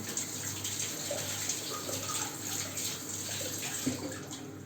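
Running tap water pours steadily over village eggs as they are rinsed in a kitchen, a continuous close hiss with small splashing changes and no talk.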